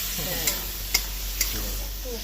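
A spice paste with water sizzles and fries in a pan for a pointed gourd and prawn curry, a steady hiss broken by three light scraping stirs.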